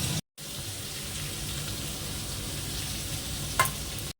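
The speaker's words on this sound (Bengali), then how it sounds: "পনিরের জন্য যে আলুটা এটা আগে ভাজবে ভেজে নেবো" Potatoes fry in a pan with a dense, steady sizzle heard up close, after a brief cut at the start and with a small clink near the end.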